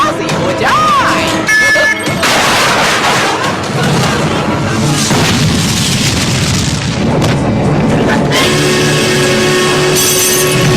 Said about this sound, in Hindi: अब थोड़ी आतिशबाजी हो जाए।